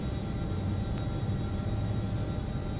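Outside view of an Inibuilds L1011 TriStar airliner with flaps set to 10 in the MSFS 2024 flight simulator: a steady, loud, broadband engine roar and rumble that stays constant and dense throughout.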